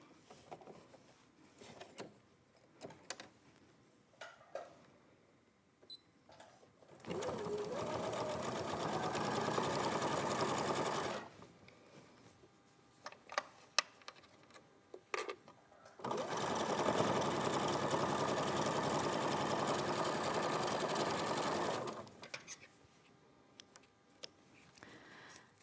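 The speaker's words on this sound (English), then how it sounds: "now we're going to sew a 1/4 inch seam." A domestic sewing machine stitches a quarter-inch seam through two fabric squares placed right sides together, running in two steady bursts of about four and six seconds separated by a quiet pause with small handling clicks.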